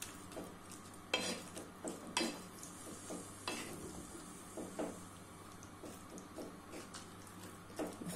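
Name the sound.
stirring chicken with spices frying in a pot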